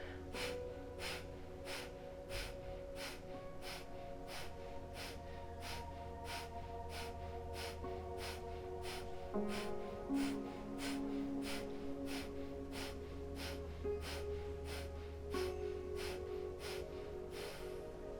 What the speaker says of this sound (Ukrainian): М'який вдих, видих, налаштувалися і разом починаємо.